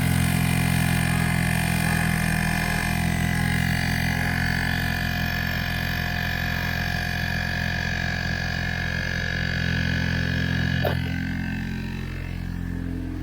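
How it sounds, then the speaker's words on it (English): A portable air compressor inflating a car tire gives a loud, steady buzzing motor drone that runs throughout, with a slight pitch shift near the end. "That thing can obviously fill up car tires, but it can fill up bike tires, basketballs, everything that you can think of that a normal air compressor could fill up."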